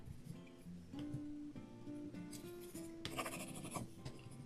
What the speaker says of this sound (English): I'm going to go ahead and rub this down, and then I'm going to give it a little burnish with the scraper tool here.